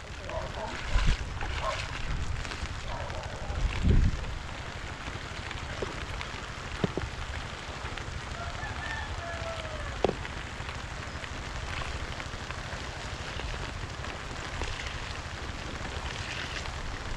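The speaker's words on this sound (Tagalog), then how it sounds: "dyan na naman ang ulan" Steady rain falls throughout, a dense hiss with scattered drops and a few brief knocks, while voices talk intermittently over it.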